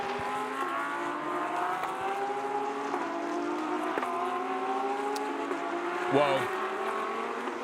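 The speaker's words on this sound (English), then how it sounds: "Car number 30, absolutely flying around the circuit." A GT3 race car, car number 30 driven by Maro Engel, laps the Chang circuit in qualifying. Its engine pitch climbs steadily with repeated sharp gear shifts, close and loud, under a commentator's talk and a brief exclamation.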